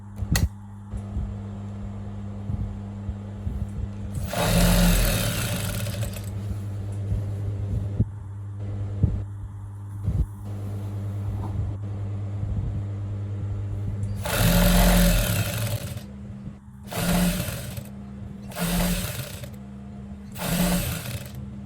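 A sewing machine stitches around the folded raw edges of a khimar, with a low steady motor hum and several short bursts of fast stitching, close and without talk.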